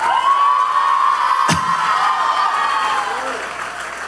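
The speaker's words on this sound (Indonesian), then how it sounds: "sampean tepuk tangan" An audience at a large gathering of Islamic clerics claps loudly and continuously, with one sharp bang midway, before the applause eases off gradually.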